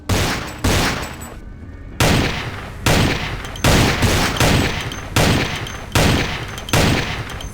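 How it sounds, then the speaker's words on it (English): A machine gun sniper rifle in Vampire: The Masquerade – Bloodlines fires about ten loud, sharp reports at an even pace, each with a short decaying tail. One brief silent gap breaks the sequence early on, and no voices are heard. "this is like a machine gun sniper rifle"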